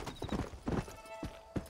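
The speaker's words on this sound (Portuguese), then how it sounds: "É muito difícil montar esse cavalinho." Horse hooves clip-clop in the Red Dead Redemption video game, four or five distinct, fairly close hoofbeat bursts in an uneven rhythm over faint game ambience, with no talking.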